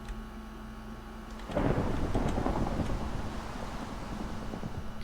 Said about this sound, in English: It is now suddenly raining